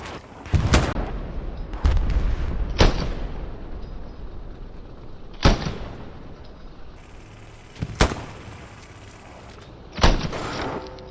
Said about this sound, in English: Oh, nice artillery. They're getting shelled.